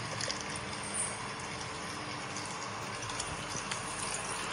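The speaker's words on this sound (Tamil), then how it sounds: "நம்ம மிக்ஸியவே கழுவி ஊத்திக்கலாம்" Steady stream of water being poured out after rinsing a mixer grinder jar while preparing muscoth halwa, a continuous close splashing trickle throughout with no talking.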